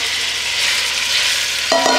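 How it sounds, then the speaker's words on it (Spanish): Pork ribs fry in hot oil, giving a loud, continuous, close sizzle with a brief scrape of stirring near the end and no voices. "Ahora dejaremos que el aceite se caliente y añadiremos las costillas"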